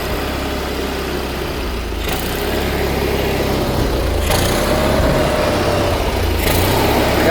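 A rusty 1970s John Deere 400 lawn tractor engine runs steadily throughout, a loud, close, continuous low rumble with no talking.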